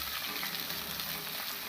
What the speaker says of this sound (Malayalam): ഒരു 4 വലിയ സവോള ചെറുതായിട്ട് അരിഞ്ഞുകൊണ്ടുള്ള ചേർത്ത് കൊടുക്കുന്നു.